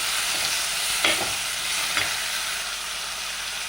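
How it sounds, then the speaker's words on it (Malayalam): Tomatoes, green chili, curry leaves and ginger sauté in a pan for egg curry, giving a steady close sizzle with two light stirring scrapes; no voices. "എന്നിട്ടൊന്ന് വഴറ്റി കൊടുക്കാം."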